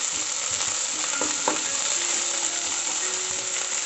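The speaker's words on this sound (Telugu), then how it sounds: "ఇవి గోల్డెన్ కలర్ వచ్చే వరకు వేపాలి." Egg pieces frying in a pan for an egg curry, a steady dense sizzle of hot oil with a few light clinks of a spatula against the pan, continuous and close throughout.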